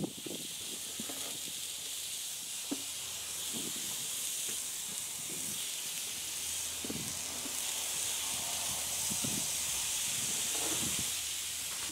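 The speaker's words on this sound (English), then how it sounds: "we're gonna get those patties on there, get them cooked up to about a medium" Beef slider patties for jalapeno and cheese sliders sizzle on a hot skillet over an open fire, a soft, steady hiss lasting throughout with a few faint low knocks beneath it.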